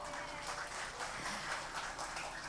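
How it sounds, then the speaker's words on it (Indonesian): Audience clapping at a Verona Films press conference, a steady, moderately loud wash of many hands sustained throughout with no talking over it. "Tepuk tangan yang meriah."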